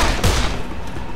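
A weapon firing in the zombie game Dead Island, a loud blast with a sharp crack in the middle of a brief, dense burst of sound.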